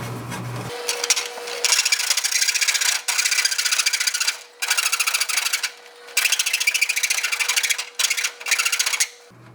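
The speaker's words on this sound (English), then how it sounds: "So I'm just going to use a flat file on it, shave that off" Long rasping strokes from a flat file shaving down a part, each pass a loud, sustained scrape separated by brief pauses, with a steady tonal hum running beneath.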